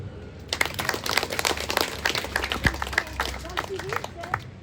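An audience claps and applauds at a performance of Latin comedy characters, with dense, uneven hand claps close by that rise and fall over a few seconds.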